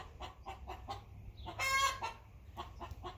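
Chickens in a chicken tractor cluck in a quick, steady rhythm of short calls, close and moderate, with one louder drawn-out squawk in the middle.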